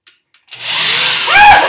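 A power drill starts up after near silence and bores a 5/16 inch pilot hole while mounting a toilet roll holder, a close, loud, steady whir for just over a second.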